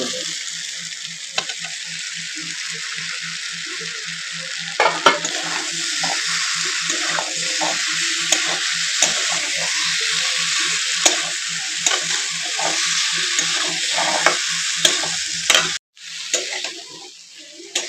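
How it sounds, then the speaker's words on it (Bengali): Fried soybean chunks and potatoes tossed into a spice paste and stirred, a continuous loud sizzle with rhythmic scraping and clattering strokes of the spoon, briefly cut off near the end. "এবারে কষানো মশলার মধ্যে আমি ভেজে রাখা সয়াবিনটা দিয়ে দেবো।"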